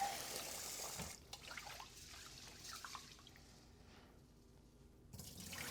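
Cloudy, starchy water from washed white rice being poured out of a pot, a soft trickling and dripping stream with a quieter pause near the end, heard alone without speech.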